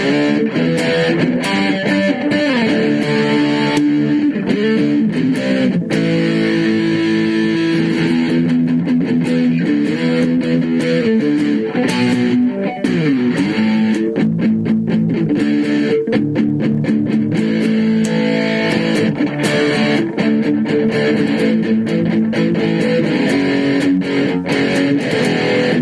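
A Les Paul electric guitar played through a rectified amp channel, heavily distorted and loud, with sustained chords and riffs moving steadily up through the tones for the whole stretch.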